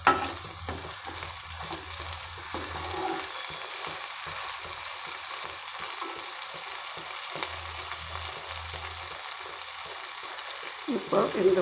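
Ground masala sautéing in oil for a brinjal and mango fish curry, a soft steady frying hiss with occasional faint stirring, fairly quiet and close, with a brief louder clatter at the end.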